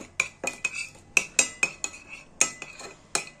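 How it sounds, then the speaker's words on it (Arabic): A metal spoon stirs peppers with salt and corn oil in a pot, about a dozen sharp clinks and scrapes in an uneven rhythm, close and clear with no talk. "وهنقلب الفلفل بالملح"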